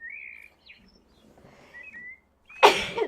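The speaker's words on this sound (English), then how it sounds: "I'm gonna have to sneeze, y'all" A single sharp, loud sneeze bursts out near the end, following a quieter stretch with a few faint whistly chirps.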